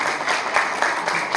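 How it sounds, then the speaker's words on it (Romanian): Audience clapping for a couple honoured for 50 years of marriage at an anniversary ceremony in Dărmănești, Romania; steady, moderately loud applause from a seated crowd for a second and a half, no talk over it. "Îi aplaudăm"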